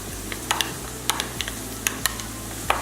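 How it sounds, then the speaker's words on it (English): A fork mixing room-temperature butter with a spice mix in a bowl for Moroccan chicken, soft scraping and stirring with a few light clicks of metal against the bowl, close and quiet, without talk. "I'm going to mix the spice mix with the butter"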